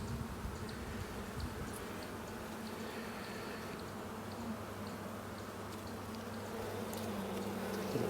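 Honey bees buzzing around an open hive during an inspection, a soft, steady hum close by that persists throughout without talking.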